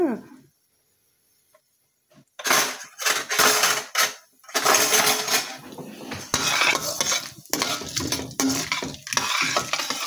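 Chana dal, cumin and dried red chillies fry in oil in a pan, heard as loud, irregular clinks and scrapes of a utensil against the pan after a brief quiet start.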